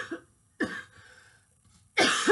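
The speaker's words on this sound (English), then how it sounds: "I don't like having a cough." A few harsh, dry coughs in separate bursts with brief quiet gaps between them; no speech.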